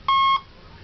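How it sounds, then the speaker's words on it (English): Electronic speed controller in a Hobby Lobby B-25 RC model airplane emits a single short, clear, steady confirmation beep, alone and fairly loud. "Confirmation beep."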